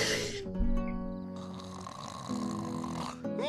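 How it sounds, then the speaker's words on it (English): Video game snoring sound effect, a long rasping snore drawn in over sustained music tones, then a second snore rising near the end, loud and close. "The snoring."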